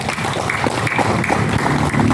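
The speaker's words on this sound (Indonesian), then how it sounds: "Tepuk tangan." Applause from the workforce at a PLN Jatinegara office performance assembly on Mother's Day, dense steady clapping filling the hall for a couple of seconds with faint background voices.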